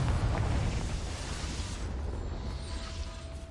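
A Confringo blasting spell cast in Hogwarts Legacy, a loud burst that fades into a long, rumbling, crackling decay.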